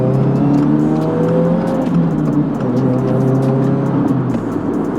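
A 2024 Subaru WRX engine with a short shifter revs loudly and steadily up close, its pitch rising and falling through gear changes with no talking.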